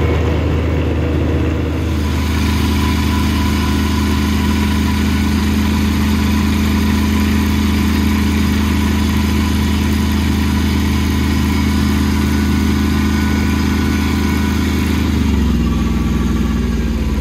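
A Kubota B1121 two-cylinder diesel micro-tractor, rated at 12 horsepower, idles steadily with a close, even throbbing drone that holds constant, briefly shifting near the start and end, with no talk.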